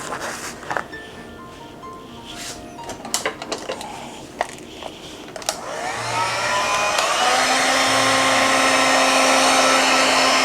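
A hair dryer switches on midway and runs as a loud, steady whir drying a craft project, after scattered clicks and handling noises at the start.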